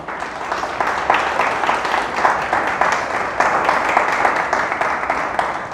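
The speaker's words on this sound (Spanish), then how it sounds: "¿Le pueden dar un aplauso a Dios?" A church congregation applauds steadily throughout, a dense, even wash of many hands clapping at moderate distance, with no talk over it.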